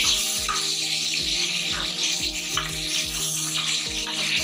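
Garlic ginger paste fries in oil in a pot for daal gosht, giving a continuous bright sizzle with soft stirring and scraping, steady and close with no talking.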